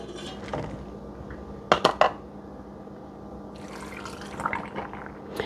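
Broth is poured into wide-mouth canning jars of pinto beans before pressure canning, a soft liquid trickle with a few sharp clinks of glass, close and without talk.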